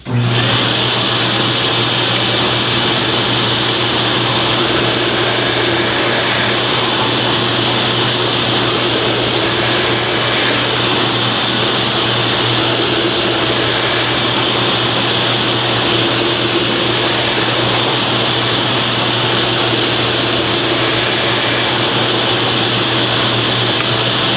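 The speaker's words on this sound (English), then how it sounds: "We'll do 5 holes and just see what it looks like with the vacuum turned on" Shop vacuum running through a Drillnado dust collection attachment on a drill press while holes are drilled, a loud continuous whine and rush of air that holds steady throughout.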